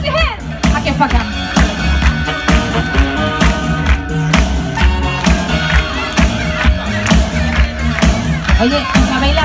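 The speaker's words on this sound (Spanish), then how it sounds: "¡Come on, clap your hands!" A crowd at a Halloween park show claps along in rhythm over loud, pounding dance music with a strong beat, with cheering and shouting voices in the mix.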